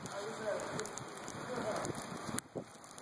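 Rain mixed with snow falls during a rare heavy snowstorm in Tucson, Arizona, a soft steady patter with some wind buffeting the microphone and a sharp knock near the end.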